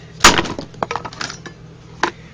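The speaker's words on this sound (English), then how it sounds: "What I do is just any kind of a hammer, and they will just shatter into little pieces" A hammer strikes blocks of beeswax, shattering them: one sharp, loud crack, then a scatter of smaller clinks and knocks as pieces break and fall, and another crisp hit near the end.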